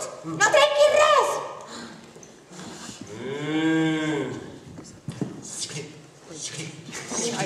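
A dairy cow on a farm in Centelles lets out one long, loud, low moo in the middle, with people talking before and after it.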